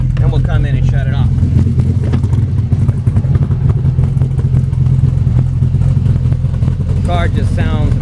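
A&C Performance Gen 5 car engine idling close by, a loud, lumpy low rumble with constant choppy pulses, with brief voices heard over it near the start and end.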